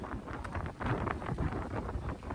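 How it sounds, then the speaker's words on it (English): Strong wind buffets the microphone outdoors at a checkpoint of a mountain gravel-bike race, making a continuous rough roar with gusting surges and no talk. "As you can hear, the wind is crazy"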